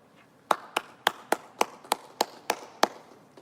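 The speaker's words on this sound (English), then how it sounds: "let's please give them a round of applause" Sparse, single-person clapping for a 2020 middle school graduating class, about nine distinct, evenly spaced claps in a quiet room, close and dry rather than a full crowd.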